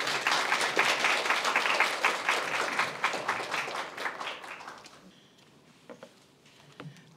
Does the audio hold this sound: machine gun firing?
no